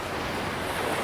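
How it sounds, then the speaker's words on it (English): Ocean surf washing up on the shore at Matanzas Inlet, a steady broadband rush of water with some wind, brief and fairly loud, no talking. "Oh, here comes the water."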